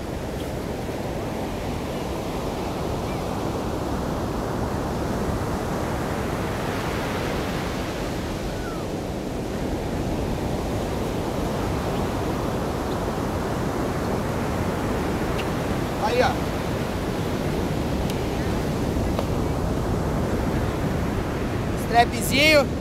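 Ocean surf rolling onto Praia Brava beach, a steady broadband wash of breaking waves with wind across the microphone, continuous throughout with a few brief knocks near the end.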